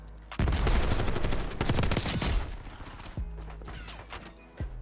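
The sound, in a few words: XMG gunfire in Black Ops 6, a video game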